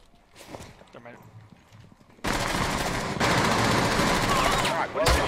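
Loud sustained automatic gunfire from a Rainbow Six Siege match erupts after a couple of seconds of quieter in-game sounds, continuing densely to the end with a brief lull and renewed bursts; a player talks over the opening.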